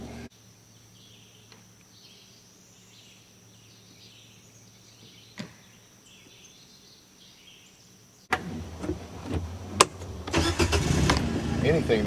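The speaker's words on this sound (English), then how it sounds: "We're going to take a trail ride today. We are in the Mule" After a quiet stretch of faint outdoor ambience, a Kawasaki Mule utility vehicle's engine abruptly kicks in and runs loud and close, rattling and revving.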